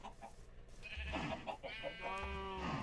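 A sheep in Minecraft bleats twice, a wavering nasal cry near and fairly loud, the second call longer than the first, over a faint game background.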